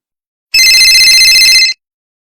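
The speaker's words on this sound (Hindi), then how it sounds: "तभी आर्यन को एक फोन आता है।" A telephone ringing in a Hindi story, one loud, continuous electronic trill lasting about a second, alone and clear with silence before and after.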